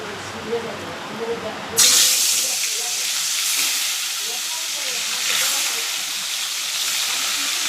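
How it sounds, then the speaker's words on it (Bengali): Bhola fish sizzling in hot oil, a steady close hiss and crackle that sets in abruptly and carries on without letup. "ভোলা মাছটা ভেজে নিচ্ছি।"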